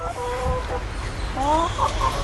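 Chickens cluck nearby in short, repeated calls over a low background hum.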